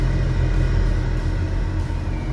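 A concrete mixer truck drives ahead on a road toward a villa construction site, heard from a following vehicle as a loud, steady low engine rumble that continues without a break, with no one talking.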